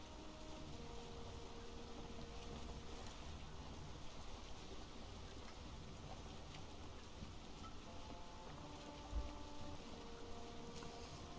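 Boat sailing across open water in the video game Valheim, a steady low wash of water and wind with a rain-like hiss running throughout, fairly quiet, with one brief louder thump near the end.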